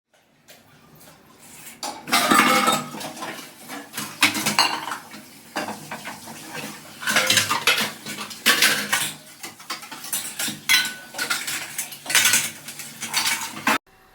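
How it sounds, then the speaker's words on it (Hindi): Dishes and cutlery clatter and clink at a sink as they are washed up after a party meal, with steady irregular scraping and knocking plus water sounds, near and continuous, with no talking. "हमने कहा चलो बर्तन साफ़ करना शुरू करते हैं"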